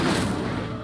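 Incendio fire spell cast in Hogwarts Legacy, a loud whooshing burst with a crackling roar that fades over under a second, no talk over it.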